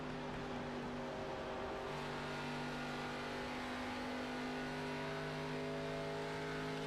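ARCA Series race cars roar around the Indianapolis track late in a race, a steady, loud engine drone with sustained tonal whine, continuous throughout with no pauses.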